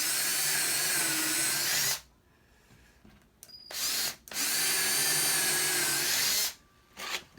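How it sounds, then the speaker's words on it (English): A power drill whines steadily as it bores through wood for a closet build, stopping briefly in the middle with a few short bursts before running again, then another short burst. "making sure you keep the drill going straight"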